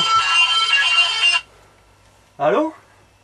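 A mobile phone ringtone plays loudly and steadily for about a second and a half, then stops; after a pause a short voice-like sound follows.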